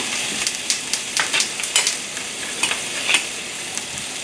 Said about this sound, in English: And here we're gonna add in some ginger and garlic mint. I'm gonna crank the heat to higher. And some hot chili oil, homemade hot chili oil.